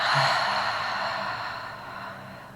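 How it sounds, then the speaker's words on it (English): A single long breath drawn in through the nose and released out the mouth during a yoga session, a close, loud airy rush that slowly fades away. "Take a full inhale through your nose. And exhale out your mouth."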